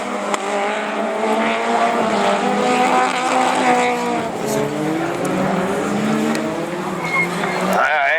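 Rallycross race cars of the Division 4 class in the 2012 French championship at Lessay roar together, engines revving and droning loudly and continuously, with tires squealing; a commentator talks briefly over the racing.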